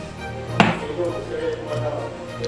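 Jaggery pieces on a plate are pounded to make jaggery tea, with one sharp close thud standing out over low background hum and faint clatter.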